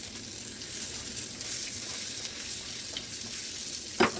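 Well-done cheeseburger patties frying in a pan, a steady close sizzle and crackle with light stirring noises, ending in a short sharp scrape as a spatula moves them.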